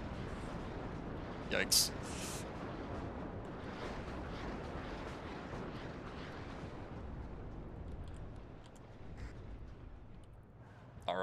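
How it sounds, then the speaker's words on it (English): Heavy artillery barrage in the real-time strategy game WARNO, a dense continuous rumble of distant shelling with a couple of sharper blasts near the start, while players talk briefly over it. "Oh, that's so much artillery."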